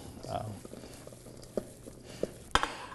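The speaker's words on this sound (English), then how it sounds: "I'm just going to mix it a little" Shredded duck and russet potato hash is worked into a paste, with soft scraping and a few distinct clinks and knocks against the bowl. A voice is heard faintly in the background.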